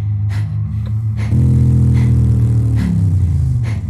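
A motorcycle engine revving in a video game gives a loud, steady low drone that swells at one point and holds strong throughout, with no speech over it.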